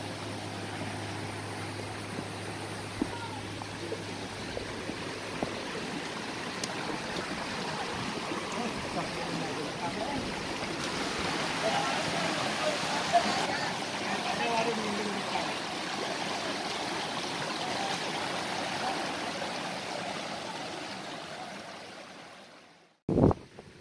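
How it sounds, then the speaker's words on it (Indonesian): Waterfall at Curug Cipanji, a steady broadband rush of falling water heard at moderate distance that fills the whole stretch, with a brief knock near the end. "Kan air terjun."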